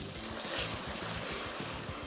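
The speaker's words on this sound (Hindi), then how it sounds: "अच्छा, अब इसमें मैं डालूंगी पानी।" Water pours steadily into a pot of rice being prepared for brown fried rice, a continuous wash of splashing that runs throughout at moderate loudness.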